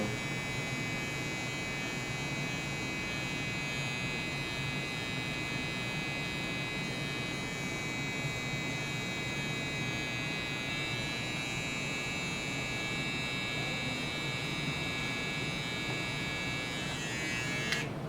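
A hair trimmer buzzes steadily and fairly faintly throughout a drop fade haircut, an unbroken electric hum with no talk over it.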